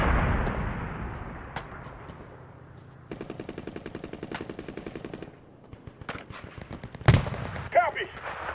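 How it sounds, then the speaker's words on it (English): Artillery and machine-gun fire in the Enlisted war game: a heavy opening boom, then a long rapid burst of automatic fire followed by scattered shots and a sharp blast, with brief shouted voices. "artillery support!"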